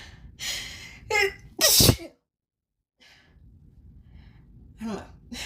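Sneezes triggered by grass pollen, a few sharp bursts close up with gasping breaths between them, then a quiet pause before a final shorter burst.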